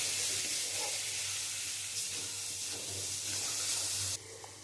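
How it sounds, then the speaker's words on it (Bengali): Spices sautéing in a pan for a bitter gourd curry give a steady, close hissing sizzle that runs continuously with no talking, then drops off sharply near the end. "আমি তো মশলা দিয়ে কিছুক্ষণ কষিয়ে নিয়েছি।"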